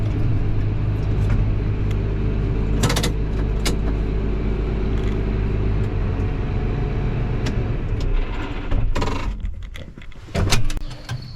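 A car with its oil freshly warmed up idles and creeps slowly into a garage, a steady low engine rumble throughout with a few brief clicks and knocks near the end.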